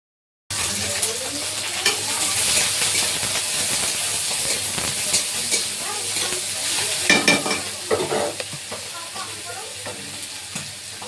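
Food cooks on a home stove with two burners lit, giving a loud continuous sizzle and hiss with stirring scrapes and clatter growing busier toward the end, close by and without speech.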